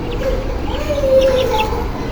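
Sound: chickens clucking in poultry farm

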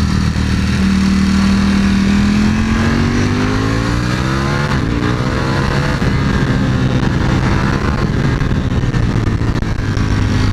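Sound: Ducati Panigale V4 S motorcycle engine revving

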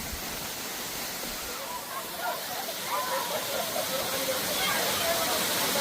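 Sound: private waterfall

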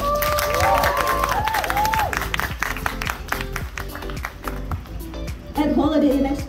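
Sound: applause

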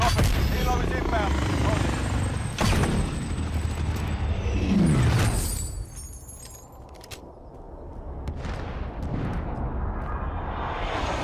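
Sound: helicopter arriving in the video game Call of Duty Warzone

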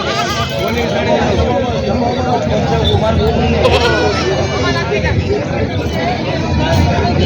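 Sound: goats bleating at goat market

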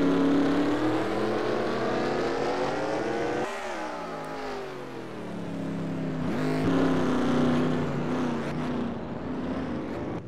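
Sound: race cars starting a race on a quarter mile track

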